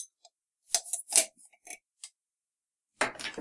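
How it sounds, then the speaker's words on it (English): A caulk gun's pressure being released after acrylic caulk work: a few short clicks and scraping mechanical snaps, close and fairly quiet, with a brief pause before a final louder rasp. "I'm just going to release it from the gun."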